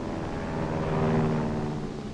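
Airplane roaring past during an aerial gunnery practice run, a broad engine drone that swells to a peak and then eases off within about two seconds.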